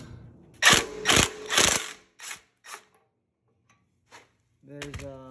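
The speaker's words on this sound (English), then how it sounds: "we're gonna start by taking the fender off. It's a quarter inch Allen." Quarter-inch Allen bolts on a Harley fender being loosened with a ratcheting hand tool, several bursts of metallic ratchet clicking close by, then a few short taps and a brief voice near the end.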